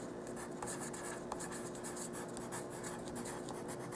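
A pen or marker writes on a small cardboard dollhouse moving box, making steady, close, faint scratchy strokes with no talking.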